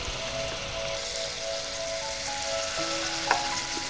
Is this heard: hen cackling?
no